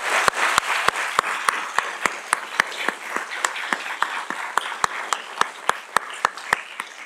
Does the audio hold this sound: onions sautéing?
no